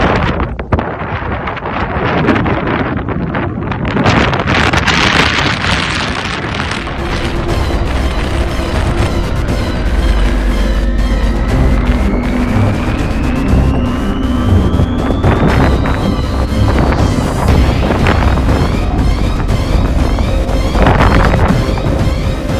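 Strong crosswind gusts buffet an airplane during a crosswind landing approach, a loud continuous roar of wind and rumble with booming bursts and a rising engine whine, no talking.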